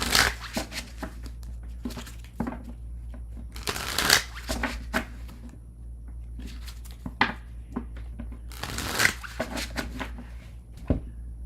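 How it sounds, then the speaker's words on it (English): A deck of tarot cards is shuffled by hand in repeated riffling bursts, close and crisp, separated by brief pauses and soft handling sounds over a low steady hum. "I'm going to shuffle"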